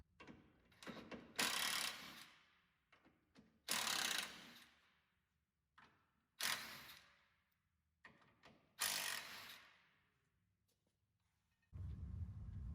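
A hand ratchet with a 12mm socket works bolts loose from the frame of a fifth-generation Toyota 4Runner during skid plate installation; several separate bursts of sharp clicking, each fading out, with quiet pauses between and a duller rumble near the end.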